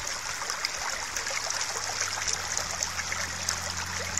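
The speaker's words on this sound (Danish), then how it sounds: "Den lille bitte, bitte, bitte bæk her." A very small brook of clear water trickles and babbles steadily outdoors, a close, continuous watery rush with fine splashing detail and no voices.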